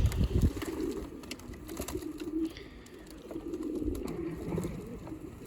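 Young pigeons coo in soft, low, murmuring phrases, fairly close, over a steady background hum with a brief rumbling knock at the start.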